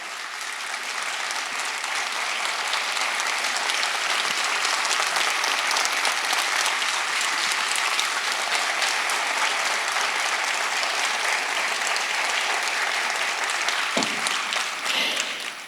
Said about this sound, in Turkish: Alkışlarınızla şefimiz Kadir Tuncer geliyor huzurlarınıza.